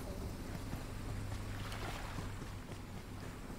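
A boat engine drones steadily across water in PUBG Mobile on the Sanhok map, a continuous low hum with sloshing wash and wind noise, constant and fairly close throughout.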